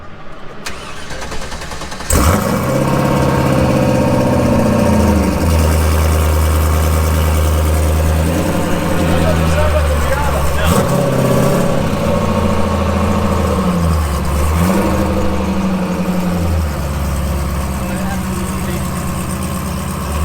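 A Spec Corvette race car engine at Laguna Seca cranks and fires up, then idles roughly with several sharp revs rising and falling, loud and close.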